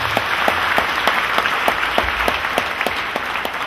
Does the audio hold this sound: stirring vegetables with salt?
no